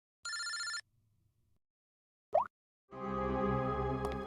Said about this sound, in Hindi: इनका फोन मत उठाओ तुम।